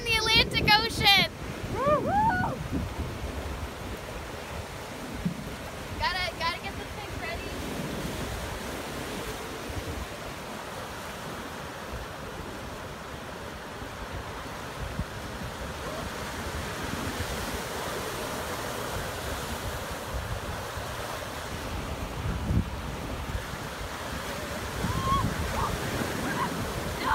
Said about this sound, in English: hopefully this wave comes in high enough